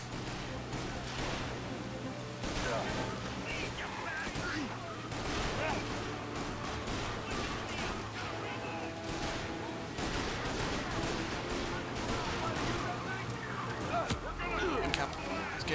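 Rapid gunfire peppers a car during a chase in the video game Mafia: Definitive Edition, with repeated bursts of shots over steady engine noise and other game sounds, continuing throughout.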